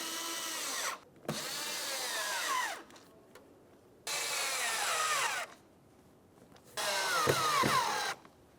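A power driver whirs in three sustained bursts, pausing between them, as it snugs down the air filter housing screws on a 1999-2006 Chevrolet Silverado 1500, with small clicks and knocks in the gaps.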